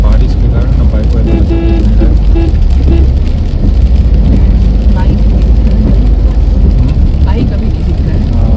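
A car drives along a highway bypassing Kurnool in continuous rain, with a steady broadband wash of road and rain noise filling the cabin throughout, and a person talking over it.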